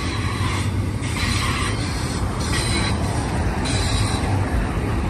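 Freight train rolling past at Cajon Summit, a steady loud roar of wheels and railcars with faint squeals and clatter, continuous and close throughout with no voices.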